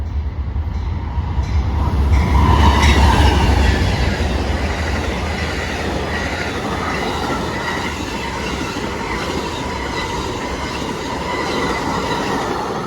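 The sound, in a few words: Amtrak 48 Lakeshore Limited passenger train passing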